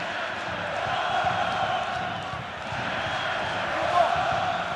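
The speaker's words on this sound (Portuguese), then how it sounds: "A torcida do Flamengo nesse momento canta e canta muito." Flamengo supporters fill a stadium in Campinas during a Brasileirão league match, their sustained crowd singing and cheering forming a steady distant roar with slight swells, and no talk over it.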